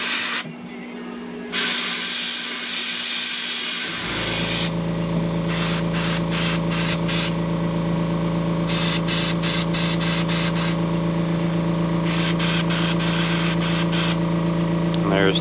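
An airbrush sprays paint onto a shiner shad popper fishing lure, a steady close hiss that starts after a few quiet seconds and runs on with brief rhythmic pulses as the trigger is worked.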